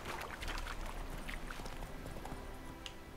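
Horse hooves clip-clop steadily while riding in The Witcher 3: Wild Hunt, a quiet rhythmic patter set against a dense game ambience.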